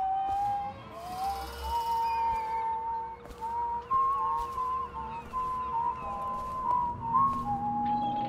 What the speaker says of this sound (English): Oh, that weird stereo whistling, that is trippy.